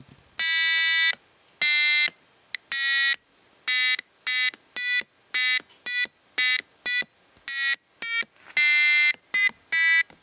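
A USB-powered mini electric piano noisemaker kit built by a beginner sounds bright, buzzy electronic tones in irregular bursts, some long held notes and some quick short blips, fairly loud against silence with no talking.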